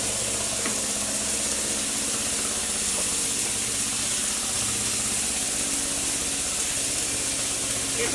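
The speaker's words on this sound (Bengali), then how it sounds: "আলুগুলো কিন্তু খুবই হালকা তেলে ভেজে নিচ্ছি।" Potatoes frying in a small amount of oil with a pinch of turmeric and salt, for a dish of beef tripe with potatoes, give a steady, even hiss and gentle crackle that runs unbroken at moderate level with no talking.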